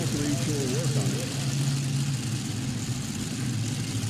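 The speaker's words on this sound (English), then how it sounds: "Listen to the RPM on this tractor." A tractor pull tractor powered by big block Chevrolet engines holds a steady, loud, low engine drone, with a little tonal rise early on, and a voice talks over it.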